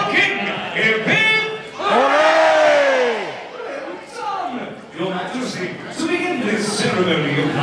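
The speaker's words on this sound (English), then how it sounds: "A cheer for the King, Hip Hip!" Medieval Times audience in Schaumburg cheering for the King: a loud crowd roar swells for a few seconds, with an announcer's voice speaking before and after over the arena noise.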